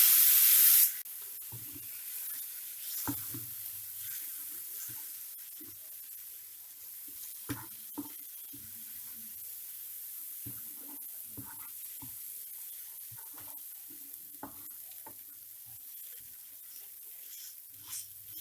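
Chopped tomato hits hot oil in a pan while prawn roast cooks, a loud hiss bursting at first, then a quieter steady sizzle with scattered crackles and pops, no voices.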